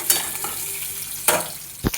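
Garden-picked okra starting to scorch sizzles in a pan with a steady hiss, while a utensil scrapes and knocks now and then nearby.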